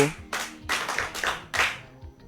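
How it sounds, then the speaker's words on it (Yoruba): An audience claps hands in several short, loud bursts of applause, each fading briefly before the next begins, with no talking in between. "ẹ pàtẹ́wọ́ fún lẹ́ẹ̀kan sí o."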